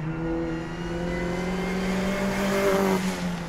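Renault Clio Renaultsport road car engine, over 220 horsepower, pulling hard under acceleration from around 4,000 rpm; a steady, loud, close mechanical drone whose pitch climbs gradually, with no talking.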